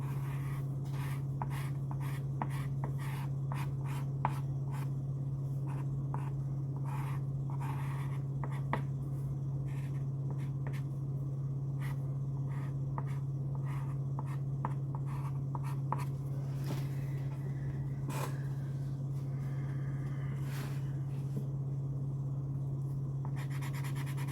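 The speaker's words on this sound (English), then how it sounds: "Sorry for the scraping noises." Vintage Grumbacher soft pastels scrape and scratch across paper in quiet, uneven strokes during drawing, heard close over a steady low electrical hum with no talking.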